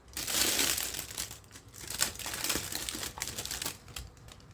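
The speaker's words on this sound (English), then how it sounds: "I'm going to tape my sides down." Tape being pulled and pressed down along the sides of a tween Easter basket, close crinkly tearing and rustling bursts that rise and fall, recorded near and fairly quiet.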